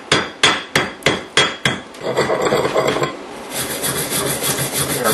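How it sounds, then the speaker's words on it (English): Six sharp metallic strikes of a chipping hammer knocking slag off a stick weld in quick rhythm, followed by a scraping, rubbing rasp of a wire brush; loud and close. "we just take our chipping hammer and we can just kind of whack it"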